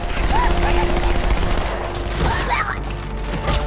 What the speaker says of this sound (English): I got some rounds from my SMG now